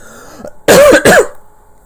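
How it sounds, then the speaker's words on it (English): Two harsh coughs in quick succession, loud and close, with a quiet hum in the background. "Apologies for the coughing."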